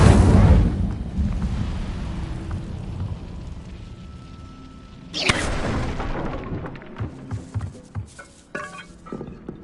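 Fiery Incendio spell blast in Hogwarts Legacy erupts with a sudden loud burst midway, after a rumbling low start, followed by scattered clinks and sharp clattering impacts.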